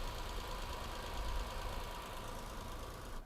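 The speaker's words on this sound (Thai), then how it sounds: "ฟังเสียงเครื่องยนต์อีกครั้งครับ อืม นิ่งๆเงียบๆครับ" A 2011 Nissan March engine idles steadily nearby, a low even rumble with a faint rhythmic knock, no voices over it.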